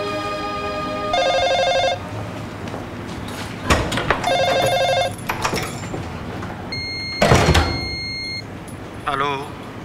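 A telephone rings in repeated electronic bursts, with door and movement sounds between rings and a shrill tone near the end, all fairly close indoors.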